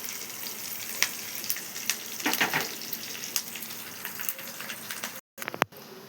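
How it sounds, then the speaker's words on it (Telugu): Mustard seeds, cumin and turmeric sizzling in hot oil for a tempering, a steady close crackle with sharp seed pops, cutting out briefly near the end. "కొంచెం ఆవాలు, మరి కొంచెం పసుపు వేసుకొని వేగనిద్దాము."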